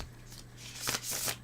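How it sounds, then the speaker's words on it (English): Tarot cards riffled in a quick shuffle, a few soft papery bursts of flicking cards close to the mic over a low steady hum, with no talking. "I want me to do a quick shuffle."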